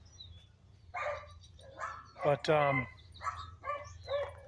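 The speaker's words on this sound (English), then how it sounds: "my dogs are busy barking at the neighbor's Harley" Dogs barking at a neighbor's Harley in a backyard, a few short barks at moderate distance with someone talking over them and a low steady hum underneath.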